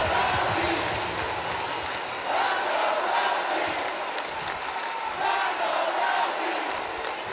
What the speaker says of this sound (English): Mixed reaction from the crowd here in New Jersey.